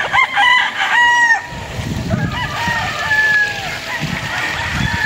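A Gilmore Hatch gamefowl rooster crows loudly and close by at a farm, its strained call layered with other roosters answering in the background and some clucking and rustling underneath.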